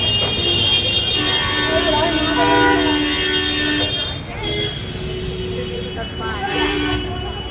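Car and bus horns toot repeatedly amid steady road traffic noise on a street in India, with someone talking over the din.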